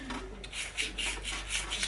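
Rhythmic rasping strokes of sanding the ports of a part, about six quick back-and-forth rubs close by, with no talking.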